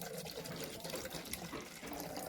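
Water pours steadily into a flower pot to loosen the stuck soil at its base, a faint continuous splashing stream.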